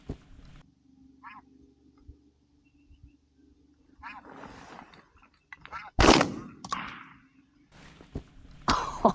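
A shotgun fires at snow geese during a spring hunt, with two loud, sharp blasts spaced a few seconds apart. Faint goose calls and rustling fill the quieter gaps between them.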